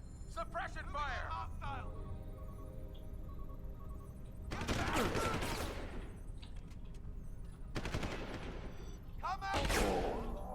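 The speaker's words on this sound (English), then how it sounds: "Suppression fire!" Bursts of machine gun fire in Deus Ex: Human Revolution, a shooter game, come in two or three loud sustained volleys, with voices talking over and between them.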